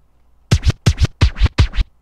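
Turntable-style scratch sample loaded in LMMS music software, four quick double-stroke bursts in a steady rhythm, loud and close with nothing else around.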